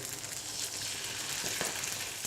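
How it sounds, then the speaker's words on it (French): Tuna fillets searing in olive oil in a hot pan, a loud, continuous close-up sizzle and crackle with no talking. "Dans une poêle chaude, je viens verser un filet d'huile d'olive. Je colore fortement mes filets de thon, 1 minute de chaque côté."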